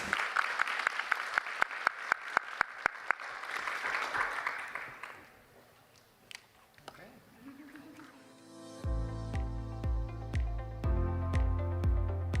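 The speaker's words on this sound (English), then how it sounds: "Please give a big round of applause to the panelists on stage." Audience applause for panelists on stage at the close of a panel discussion, a dense patter of clapping in the opening seconds that fades out, followed by louder sustained music.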